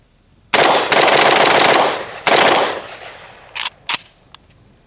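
A short rifle fitted with a CAC Industries A2 muzzle device fires 5.45x39mm Tela Impex ammunition outdoors in loud rapid bursts, two sustained strings of shots followed by a few sharp single reports and faint metallic clinks.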